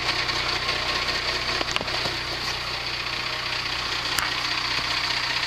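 A 1998 12-valve Cummins diesel idles steadily just after a cold start, a close, continuous low rumble with a constant knocking clatter and a few faint clicks over it.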